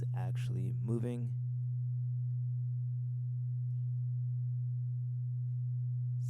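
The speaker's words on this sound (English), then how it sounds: "It's undulating up and down in amplitude, the sine wave" A steady low synth sine tone with a slow, subtle swell and dip in loudness hums alone, following a short burst of brighter chirping tones at the start.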